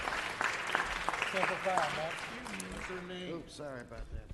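Council meeting audience applauding a veteran, a dense patter of clapping from a seated crowd with voices talking over it throughout.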